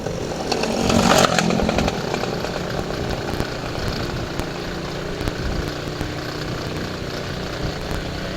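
A motorcycle engine labours loudly while climbing a steep road on a hillside plantation slope, with a harsh, buzzing drone that swells near the start and then holds steady throughout.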